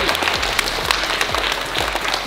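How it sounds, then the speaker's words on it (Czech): Children applauding together at the close of a parkour workshop, a steady patter of clapping over a low rhythmic thumping in the background. "dejte si všichni velký potlesk"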